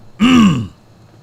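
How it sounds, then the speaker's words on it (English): A single short throat clearing, close and fairly loud, lasting about half a second before quiet. "let me clear my throat"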